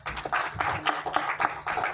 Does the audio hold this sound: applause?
yes